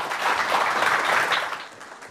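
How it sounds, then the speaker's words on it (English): An audience at a data strategy panel talk applauds the panellists in a steady, moderately loud round of clapping that fades slightly toward the end. "So big round of applause and thank you for the panellists."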